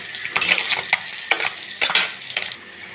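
Small fish (chara pona) sizzle while frying in oil in a kadai, with a steady crackle broken by several sharp clinks and scrapes of stirring close by.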